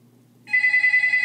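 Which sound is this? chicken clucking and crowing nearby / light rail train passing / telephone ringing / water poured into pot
telephone ringing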